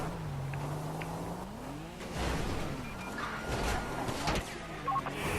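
Several cars drive past in Grand Theft Auto V, engines revving and sweeping by with whooshes, loud and close, with no talking.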